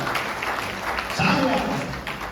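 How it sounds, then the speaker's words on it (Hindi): A Ram Katha gathering in Kolkata breaks into applause, a broad steady wash of clapping throughout with a tonal voice rising briefly over it midway. "एक बार जोरदार तालियों से स्वागत"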